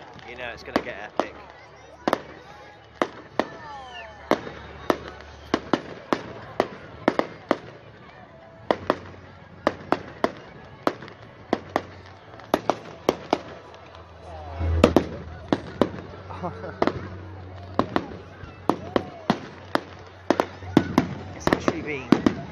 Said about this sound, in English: Who wants stock firework footage?